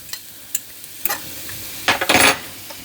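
A spatula scrapes and clatters against a skillet as sweet potatoes are stirred with melted butter, with a few sharp clicks and then a louder cluster of scraping strokes over a faint sizzle.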